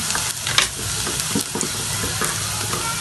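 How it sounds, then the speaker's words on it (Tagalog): Garlic sautéing in a pan while cooking kare-kare with bagnet, a close, loud, steady sizzle broken by scrapes and clinks of stirring. "mag-isa na tayo ng bawang"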